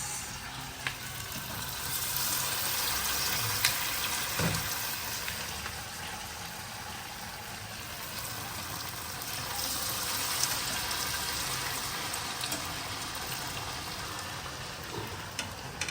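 Star cutlets frying in hot oil, a continuous close sizzle and crackle that holds steady throughout with faint scattered pops, no voices.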